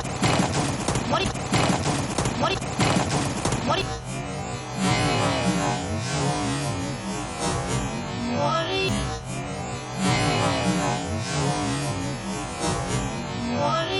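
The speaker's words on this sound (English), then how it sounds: "Blatantly shooting his shoulder." Gunfire from the video game Call of Duty Warzone crackles in dense rapid bursts through the whole stretch, loud and continuous, with a voice talking over the shooting.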